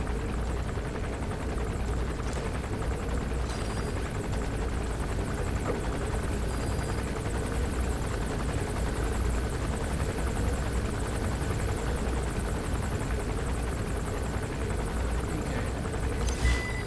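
A continuous rotor drone of a helicopter in Metal Gear Solid V hovers throughout, steady and loud with a thumping low rumble and no talking.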